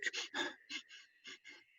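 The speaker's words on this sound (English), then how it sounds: "that's shallow chest breathing, you're not filling the lobes in the bottom part of the lung" Shallow chest breathing demonstrated by a man, a series of quick, close, breathy inhales and exhales in short uneven bursts with no speech.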